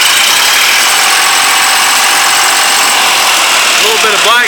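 Fordson Super Dexta diesel tractor engine, old and recently revived after sitting, running steadily at close range with a loud, even mechanical clatter and drone throughout.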